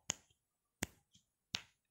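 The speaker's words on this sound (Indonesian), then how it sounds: "Bagaimanakah bunyi jentik jari?" Finger snaps demonstrated in a classroom lesson on sound colour: three sharp, close snaps spaced evenly about three-quarters of a second apart, each a crisp click with a short tail, with no talking.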